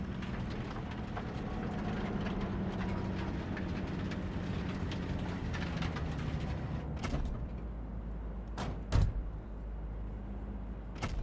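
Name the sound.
train in the video game Cyberpunk 2077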